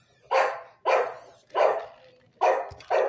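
A puppy barks five times in sharp, evenly spaced yaps, close and loud against a quiet background.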